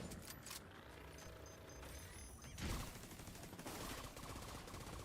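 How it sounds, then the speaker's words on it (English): Gunfire from the video game The Division 2 comes as dense, continuous bursts of automatic shots mixed with clattering mechanical noise, a busy, layered firefight at fairly low overall level. "Must be shooting the gun"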